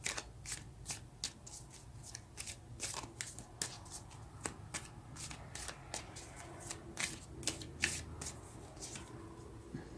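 Tarot cards being shuffled by hand in a quiet room, a steady run of crisp riffling slaps and flicks repeating across the whole stretch at close range with no talking.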